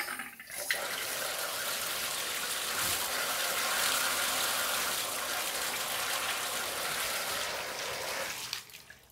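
Water runs steadily from a repaired, previously leaking shower faucet, a continuous hissing gush at moderate level that stops near the end.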